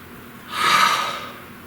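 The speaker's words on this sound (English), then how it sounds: "Please take a nice deep breath." A single deep breath, drawn slowly and then let out, swelling and fading over about a second, close and fairly loud with no talking.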